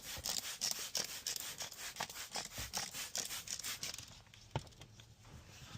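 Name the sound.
scrubbing the inside of a windshield before tint install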